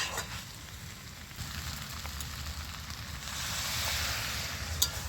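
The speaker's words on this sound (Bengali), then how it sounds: "এবার আমি পরিমাণ মতো একটু অল্প করে জল দিয়ে দিচ্ছি।" Water hitting a hot pan of snake gourd and potato curry, a steady sizzling hiss that swells slightly midway, with faint clinks, no voices.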